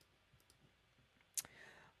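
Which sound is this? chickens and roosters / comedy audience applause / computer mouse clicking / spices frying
computer mouse clicking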